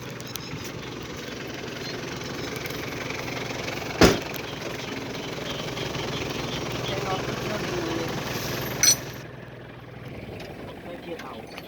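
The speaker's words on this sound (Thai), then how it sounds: "สุดท้ายก็ต้องพึ่ง รถไถเลยครับ" A Kubota tractor engine drones steadily while pulling a stuck vehicle free, a continuous mid-level rumble broken by two sharp clunks before the engine note drops near the end.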